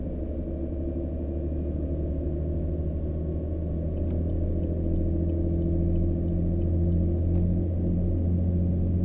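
A simulated heavy-haul truck engine in American Truck Simulator hums as a steady, low, rumbling drone with faint tonal whines rising over it. The sound is continuous at moderate loudness, with no voices.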